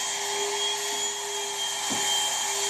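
A hot air plastic welder blows a steady, even hiss of air with a faint constant whine, close by and unbroken, with one soft bump partway through.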